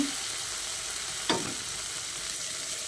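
Masala spices frying in oil for a vegetarian soybean curry, a steady low sizzle with one brief scrape of a spatula midway.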